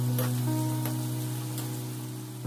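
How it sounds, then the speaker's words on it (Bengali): Raw peas and potatoes sizzle lightly in a hot pan, with a steady low crackle of frying throughout and a brief clatter near the end. "এখন ফ্রাই করে নেবো হালকা।"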